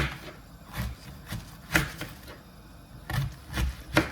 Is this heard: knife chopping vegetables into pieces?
yes